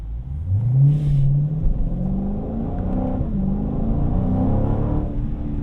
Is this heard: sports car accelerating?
yes